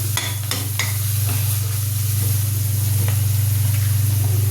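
Fenugreek leaves and green chilli thecha sautéing in a pan, giving a steady close sizzle under a low constant hum, with a few sharp stirring scrapes near the start and no talking.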